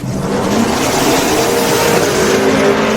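Drag race cars, including a Blazer, launch off the starting line at a Sick Week 2024 drag racing event, making a loud, sustained, close engine roar that holds steady throughout with no voices.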